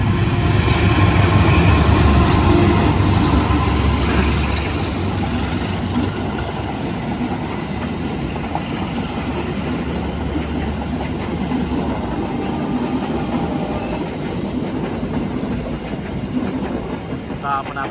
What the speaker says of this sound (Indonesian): Wah, ada kereta nih.